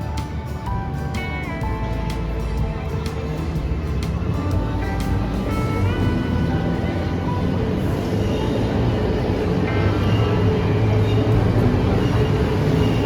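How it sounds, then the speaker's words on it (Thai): A train rumbles past loudly and steadily, with metallic squeals and screeches rising over the constant roar. "รถไฟมาแล้ว"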